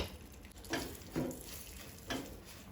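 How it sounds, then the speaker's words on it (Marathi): Flour roasts in ghee in a pan, with a soft continuous sizzle and a few louder scraping, stirring swishes recurring at about half-second to second intervals, fairly quiet and without talk. "थोडेशें तूप घालून भाजून घेवया बरें।"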